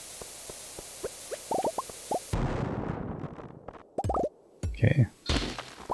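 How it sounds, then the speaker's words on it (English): Larger bombs detonate in the Stardew Valley mines, giving several loud low booms and pops with rumbling debris. Short plopping game effects come before them. "Now, I'm going to drop a couple of the larger bombs."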